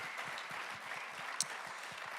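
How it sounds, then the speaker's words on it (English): An awards banquet audience applauds steadily, a dense wash of clapping at moderate volume, with one brief sharp clap standing out near the middle. "Let's give them a round of applause."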